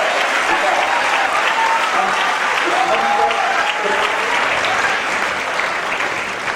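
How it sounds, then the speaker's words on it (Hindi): A Bihar ceremony crowd applauds loudly and continuously in honour of Super 30 founder Anand Kumar's mother, dense clapping filling the hall throughout, with faint voices and tonal sounds threaded underneath. "जोरदार तालियों के साथ आनंद जी की माता"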